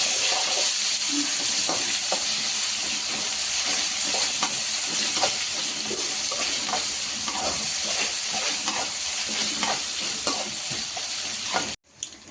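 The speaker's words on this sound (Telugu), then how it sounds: "ఇప్పుడు దీంట్లో మనం ఒక 1/2 స్పూన్ అల్లం వెల్లుల్లి పేస్ట్ వేసుకోవాలి. వేసుకొని ఫ్రై చేసుకుందాం." Onion, green chilli and ginger garlic paste fry in hot oil for a paneer curry, giving a loud, steady sizzle with repeated stirring scrapes, cut off abruptly at the end.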